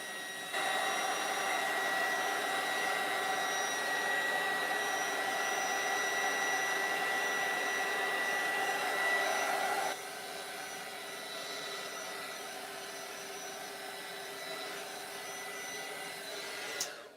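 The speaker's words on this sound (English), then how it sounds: "I'm going to dry it with my little dryer." A small handheld hair dryer blows steadily to dry paint on an artwork, a constant close whirring hum that drops to a lower setting partway through and cuts off at the end, with no talking.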